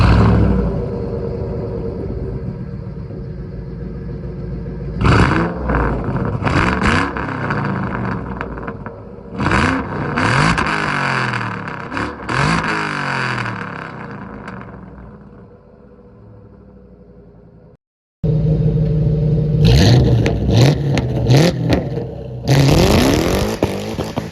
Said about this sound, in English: listen to how this car sounds with some revs